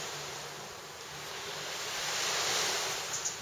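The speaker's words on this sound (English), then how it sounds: "So I'm just going to pour, this is the kefir coconut water," Kefir coconut water poured out of a container in a home kitchen, a steady, continuous rushing splash that holds at an even loudness for a few seconds, with no talking.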